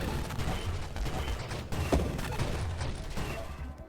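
A flak weapon in the space shooter Nova Drift fires a dense, continuous clattering barrage, rapid mechanical pops layered into a steady loud rattle with a few heavier bursts, no speech.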